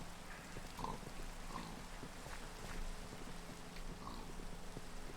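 Pigs oinking and grunting in a Minecraft-style survival game, several short snorts scattered over a steady low background hiss like rain, moderately quiet and close.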